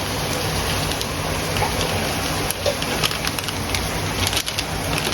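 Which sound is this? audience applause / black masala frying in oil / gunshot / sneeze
black masala frying in oil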